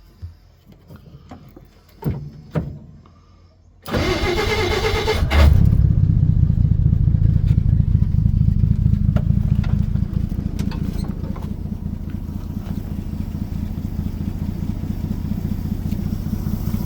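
1955 Plymouth Savoy engine cranking briefly and catching, then settling into a steady, slightly uneven low idle that runs on continuously after a few faint clicks and knocks.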